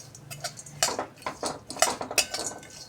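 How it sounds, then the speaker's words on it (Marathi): Almonds roasting in ghee in a pan with cashews being added, heard as scattered clinks and scraping of a utensil against the pan, moderately close, with no talk. "बदाम थोडेसे परतवून झाल्यानंतर काजू पण घालून घेऊया आपण."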